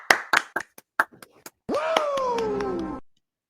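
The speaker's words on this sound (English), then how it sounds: "So clap it up for Sophia." A few people clap in short, sparse bursts at close range, quick uneven slaps that stop after about a second and a half, followed by a drawn-out vocal groan or cheer.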